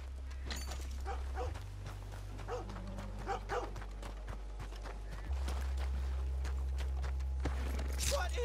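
Hooves clip-clop steadily from a horse in the video game Red Dead Redemption 2, over a constant low game hum, with scattered louder thuds along the way.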